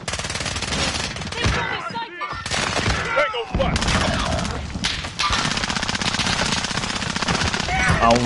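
Dense, loud machine gun fire from Call of Duty rattles in sustained bursts, pausing briefly around the two-second mark before resuming just as heavily through the end.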